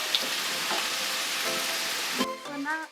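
Tomatoes and mixed vegetables, including browned onions and sweet pepper, sizzle and fry steadily in fat from meat in a pan as they are stirred, with a brief louder scrape of the spoon near the end.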